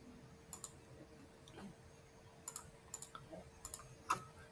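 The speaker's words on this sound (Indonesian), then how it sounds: "Oke, kita pakai kalkulator lagi." Calculator buttons pressed in a sequence of small, crisp clicks, some single and some in quick pairs, close by and fairly faint in an otherwise quiet room.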